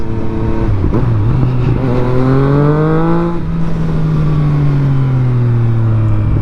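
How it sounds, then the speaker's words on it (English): A motorcycle fitted with an aftermarket Akrapovič exhaust revs up close, its engine pitch climbing, dropping back and rising again in long sweeps, loud and alone. "It gives it a good backfire though, that's for sure."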